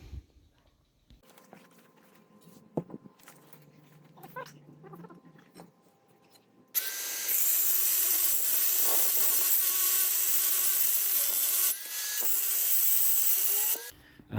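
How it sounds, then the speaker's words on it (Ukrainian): A saw cuts off the end of a wooden rod outdoors. After quieter handling and faint rustling, a loud, continuous rasping cut starts partway through and runs steadily at close range for several seconds, briefly dipping once before ending. "зараз ми її відріжемо"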